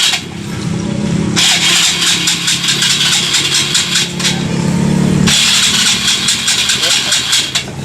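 A rewired motorcycle engine is started, then runs with a steady mid-pitched rumble that swells louder partway through, while people talk over it.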